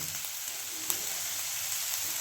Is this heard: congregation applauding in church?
no